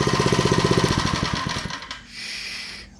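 A Predator 79cc engine on a Mega Moto 80 minibike runs with a rapid, loud chattering idle for about two seconds, then cuts out, leaving a softer hiss and faint tail.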